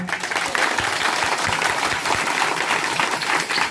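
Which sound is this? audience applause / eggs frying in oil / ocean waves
audience applause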